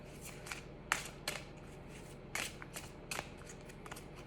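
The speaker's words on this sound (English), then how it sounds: "Let's pull a Seasons of the Witch Oracle card for this full moon in Aries" Seasons of the Witch Oracle cards being shuffled, with quiet papery riffles and several sharper snaps of card edges spread through the clip.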